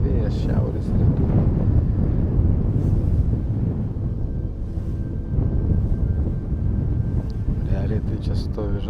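A northeast wind buffets the microphone on an outdoor fishing trip, a loud, continuous low roar with gusty swells throughout and no clear voices.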